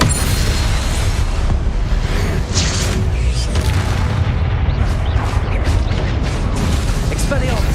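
Confringo fire spell blasts in the Hogwarts Legacy game, a string of loud booming explosions and crackling bursts over continuous rumbling combat noise, with brief sharp pops near the end.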